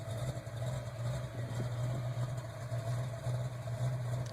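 Ford Mustang with a stock-bottom-end 302 V8, Trick Flow Stage 2 cam and Edelbrock heads, idling through its exhaust with a steady, low, loping rumble throughout, heard alone without talk.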